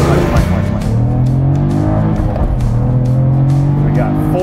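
A manual Cadillac CT4-V Blackwing with 472 horsepower accelerates hard from 0 to 60 mph, its engine note climbing loud and close through rising gear pulls, with a brief shift dip midway.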